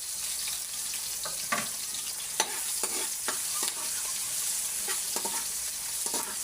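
Garlic and chicken fry in a pan for adobo sa gata, a steady sizzle broken by repeated scraping stirs of a utensil against the pan, close and clear.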